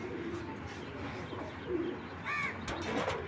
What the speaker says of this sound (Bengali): এটা মাদি কবুতর বুদাপেস্ট দেখেন মাদিটা অনেক সুন্দর একদম অরিজিনাল হাঙ্গারিয়ান বুদাপেস্ট একটা মাদি